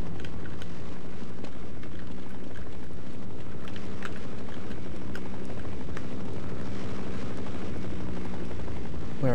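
Helicopter in the video game Half-Life, a steady loud rotor and engine drone running throughout, with scattered sharp game sound effects layered on top.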